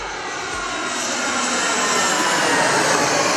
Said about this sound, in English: if I go out for a walk right now or I'm hanging out on my balcony, I will hear airplane noise and it sounds just like this